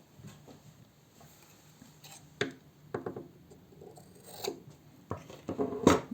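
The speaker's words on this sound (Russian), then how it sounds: "обрезаю ниточки и оставляю ровно столько, сколько мне нужно для того, чтобы стачать" Scissors snip loose threads from the seams of a sewn silk blouse, a few quiet, separate cuts spaced irregularly and heard up close, with no voices.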